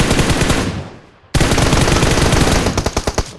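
PUBG Mobile gunfire rattles in a loud, sustained automatic burst that tails off, stops briefly, then resumes in rapid fire. The final shots are spaced out and distinct. No one speaks.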